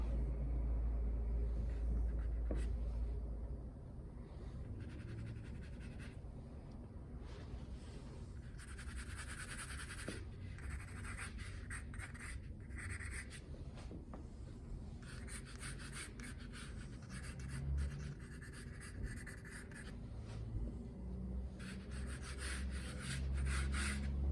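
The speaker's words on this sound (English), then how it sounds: "I use the eraser to draw with. It's actually quite a beautiful drawing tool. Pick up some graphite and then spread it." An eraser rubs across paper, picking up and spreading graphite, making a soft, steady scratching and brushing that comes in repeated strokes, quiet and close with no talking.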